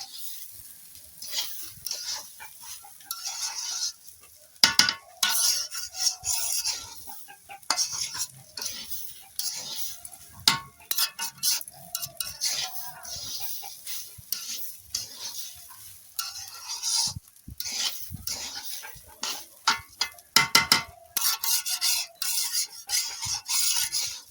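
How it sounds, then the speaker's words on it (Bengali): Polao rice being fried and stirred often in a pan, with a spatula scraping and clattering in quick irregular strokes over a continuous sizzle, close and fairly loud with no voices. "পোলাওয়ের চালটা খুব ঘন ঘন নাড়তে হবে"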